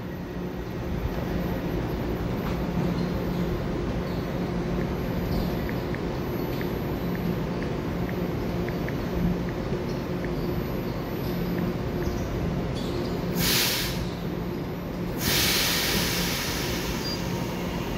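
A ten-car EMU900 electric commuter train pulls out of Beihu station bound for Keelung. Its steady, loud rumble runs throughout, with a couple of brief hissing bursts near the end and no voices.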